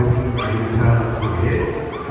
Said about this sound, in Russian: когда ему дают вкусняшку, он гавкает